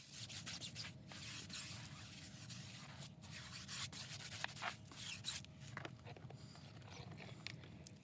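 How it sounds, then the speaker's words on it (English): A stiff tire brush scrubs car tires coated with wheel cleaner, producing a continuous, fairly faint rubbing and scraping with a steady back-and-forth texture throughout, and no voices. "give them a good scrub with my trusty tire brush"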